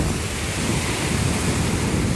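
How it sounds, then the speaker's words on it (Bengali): Ocean waves crash and roar steadily on the Cox's Bazar sea beach, a loud, continuous broadband surf wash mixed with wind buffeting the microphone, with no voices. "ভাই এই ঢেউটা ছিল সবচেয়ে মানে জোরালো।"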